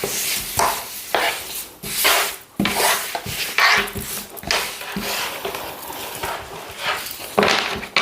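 Tarot cards shuffled by hand during a French fortune-telling reading, giving repeated close papery rubs and riffling bursts in an irregular rhythm, fairly loud and steady with no talk over them.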